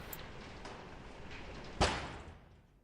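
A big, heavy-duty door in Fallout 76 thuds once, a sudden heavy clunk that rings out and fades over a quiet background with a faint earlier rumble.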